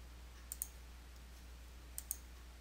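A computer mouse clicks while working in QuickBooks Desktop Pro 2020 software, with two quick pairs of faint, close clicks over a low steady hum.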